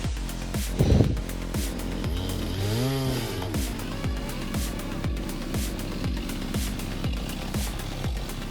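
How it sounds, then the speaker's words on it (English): A chainsaw runs steadily throughout at a tree-cutting job, its engine droning close and loud with a brief louder burst near the start and a revving pitch sweep midway. "Ladders and chainsaws are a classic disaster combo."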